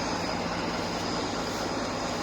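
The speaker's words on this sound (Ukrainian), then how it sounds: "Це наш клас, Меркатор 70-й." An old Claas Mercator 70 combine harvester runs through a spring barley harvest with a steady, loud, unbroken engine and machinery drone. No voices are heard.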